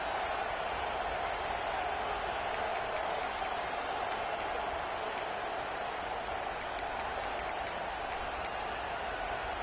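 Stadium crowd at a college football game against Miami, a steady loud roar filling the whole stretch with no break, faint higher whistles or cheers now and then.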